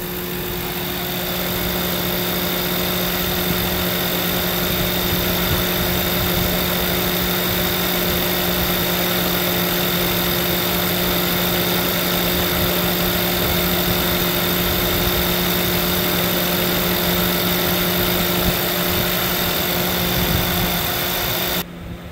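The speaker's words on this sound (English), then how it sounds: "let you actually get to hear the engine at idle" A 2008 Ford Crown Victoria Police Interceptor idles steadily with no talk, a close, continuous low engine rumble with a constant hum that holds even throughout.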